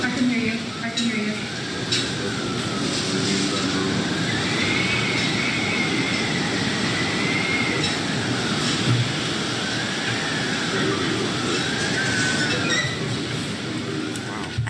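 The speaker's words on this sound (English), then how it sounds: "You can see the wind's just whipping everything." Hurricane Irma's wind roars continuously at Marco Island, a loud, rushing broadband storm noise with gusty swells and a rising and falling whistling moan, no voices heard.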